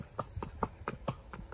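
A mare walking at the Muktsar fair, hooves clip-clopping in a steady, evenly spaced rhythm of about seven strikes, moderately close and fairly quiet, with no voices over them.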